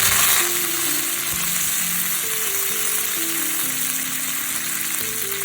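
Mustard seeds and curry leaves fry in hot oil for a bitter gourd fry, giving a continuous close sizzle with a louder burst at the start and no voices.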